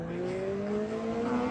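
Video game motorbike engine, a smooth sustained tonal whine with its pitch rising slightly as it accelerates, heard alone at moderate level.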